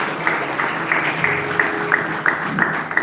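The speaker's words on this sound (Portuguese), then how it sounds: "Vamos aplaudir ao Senhor." A church congregation claps in a steady, rhythmic beat, moderately loud in a reverberant room, with a faint murmur of voices.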